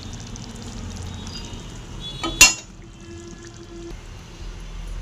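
Cooked curry is poured out of a pan, a short wet slide and clatter after a low background hum, followed by quiet kitchen noise.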